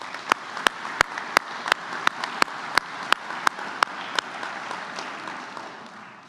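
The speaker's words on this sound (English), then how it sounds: "Let's give them a round of applause." Scattered audience applause at a university faculty and staff convocation, a thin round of separate sharp claps at a fairly even pace over a soft background that fades toward the end.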